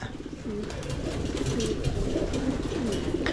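Young pigeons coo in a close, steady run of soft, low, repeated calls that fill the whole stretch without talk.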